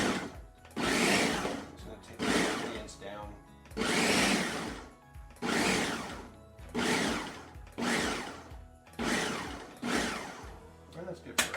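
A Ninja blender pulses salsa ingredients in a run of about seven short bursts, each a loud whirring chop separated by brief pauses, with a voice speaking over it.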